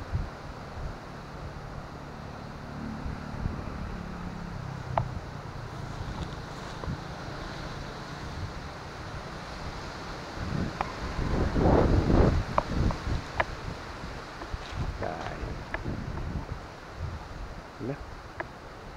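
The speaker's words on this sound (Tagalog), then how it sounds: "malakas pa rin ang hangin" Steady roaring typhoon wind with rumbling gusts that swell near the middle, buffeting the microphone, with some faint talk in the background.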